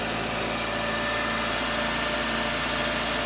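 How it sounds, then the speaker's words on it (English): A cold 1996 Toyota Corolla engine idling in neutral, a steady, even hum with a faint rhythmic pulse and a broad hiss, constant and close. "Pretty quiet engine when you think about it."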